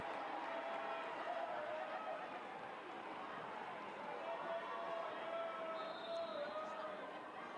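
Spectators at a women's football match between Manchester United and Aston Villa applaud a substituted player leaving after her 150th appearance, a steady, even wash of distant stadium clapping and crowd noise throughout.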